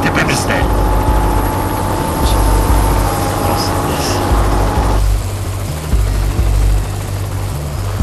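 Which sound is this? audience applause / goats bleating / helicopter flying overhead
helicopter flying overhead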